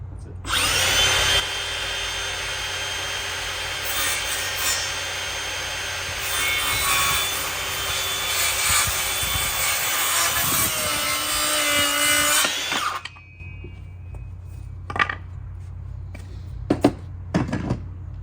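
A handsaw rasps steadily through a piece of scrap wood, a continuous loud sawing roar for about thirteen seconds that stops abruptly, followed by a few sharp knocks and handling clicks.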